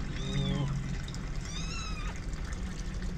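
Kitten being bathed, with short high mews and cries over a background of running or poured water, close and fairly quiet.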